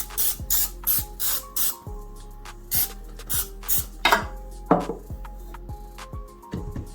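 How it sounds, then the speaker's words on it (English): Repeated short hissing bursts of cooking spray on a baking tin, in quick uneven pulses, close by, with faint background music underneath. "Spray your tin, or you can put any type of butter."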